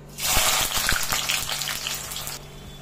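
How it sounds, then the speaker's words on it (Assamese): Jackfruit pieces frying in hot mustard oil in a black kadai give a loud, steady sizzle with bright crackling, broken by a few soft thuds as pieces settle, and no voices. "এয়া মই তেলখিনি গৰম কৰি ল'লোঁ লৈ ইয়াতে দিলোঁ কঁঠালখিনি"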